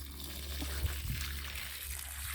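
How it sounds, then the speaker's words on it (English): Rainwater is poured onto dry ground around a mango tree on a small organic farm, a faint trickle over a low background hum with no voices. "I'm going to water it. This is rain water."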